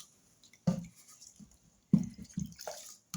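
A few quiet splashes of water being poured into a vessel, in short separate bursts with silence in between.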